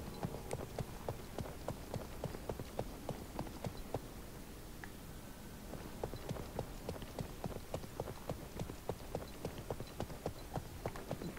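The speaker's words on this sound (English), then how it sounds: "As we go as a horse." Horse hooves gallop in a fast, even clip-clop rhythm as a mount runs in the video game Realm Royale, heard at a moderate level with no talk over it.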